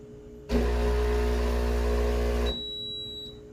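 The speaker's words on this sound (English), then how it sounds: "You hear the beep, and both flush and descale was flashing." A Breville Barista Pro espresso machine gives a loud, steady buzzing hum for about two seconds, then cuts off, followed by a short high-pitched electronic beep signalling flush and descale.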